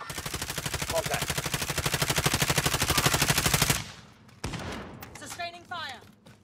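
A sustained automatic burst from a video game weapon rattles at a steady rapid rhythm for several seconds, loud and close, then cuts off into quieter scattered game sounds and a couple of sharp impacts.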